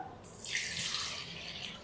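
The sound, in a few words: water poured into a blender jug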